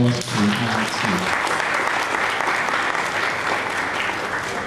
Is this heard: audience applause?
yes